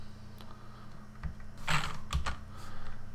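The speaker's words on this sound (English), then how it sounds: "I can hold down Control and tap D to type in a duration." A few scattered keystrokes on a computer keyboard while entering a duration in editing software, soft isolated clicks with pauses between them over a low background hum.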